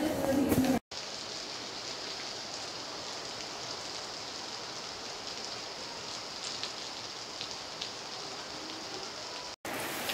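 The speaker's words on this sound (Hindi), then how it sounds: "आप देख सकते हैं यहाँ पर बारिश शुरू हो गई है पीटीसी में" Steady rain pours down at PTC during a Lohri celebration, a dense, even hiss of drops on surfaces that continues nearly without break, with faint voices at the very start.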